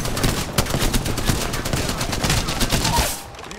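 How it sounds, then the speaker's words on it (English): Gunfire from another squad in the video game Apex Legends, sustained overlapping bursts of rapid shots, loud and steady before tapering off near the end. "Getting shot by another squad!"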